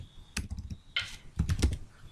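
Bursts of computer keyboard typing, close and moderately loud, with irregular clusters of clicks and brief pauses between them while writing Vue.js code.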